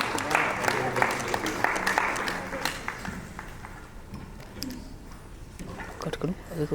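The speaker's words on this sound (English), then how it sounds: "Ladies and gentlemen, let's have a big round of applause" Applause at the inaugural session of a menstrual hygiene summit, loud and dense at first and then thinning into scattered claps, with voices and murmuring mixed in.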